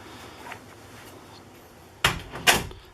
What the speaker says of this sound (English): Now let's test the door.